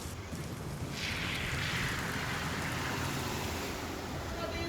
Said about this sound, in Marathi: भरतीच्या लाटांचं पाणी कोस्टल रोडवर आहे